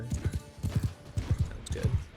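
Horses gallop in the medieval battle game Mount & Blade Bannerlord, with hoofbeats thudding close and loud in quick three- and four-beat bursts over about two seconds.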